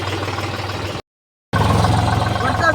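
A tractor engine runs in the rain on a farm track, a steady low idling rumble with rhythmic throbbing, close and fairly loud, broken by a brief dropout before resuming slightly stronger.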